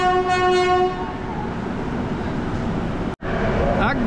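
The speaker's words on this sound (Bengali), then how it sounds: "একদম নির্ধারিত সময় ঠিক 2টো বেজে কিন্তু আমাদের ট্রেন ছাড়লো" Kolkata–Digha special train 03161 leaves Kolkata station: a loud, sustained horn blast opens, then gives way to the steady rumble of the moving train, broken near the end by a brief dropout.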